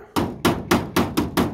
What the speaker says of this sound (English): When in doubt, hammer out.